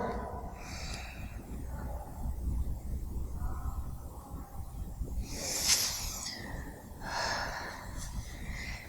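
Breathy exhalations from a person doing split stretches, several soft hissing breaths at irregular intervals, close and fairly quiet, with no talk.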